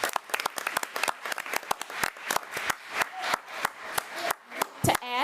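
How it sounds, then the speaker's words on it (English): An audience claps for an award winner at a school board meeting, dense steady applause close and continuous, thinning briefly near the end with a faint voice. "So let's give Carson another round of applause."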